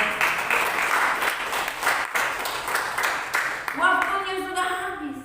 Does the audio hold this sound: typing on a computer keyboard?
no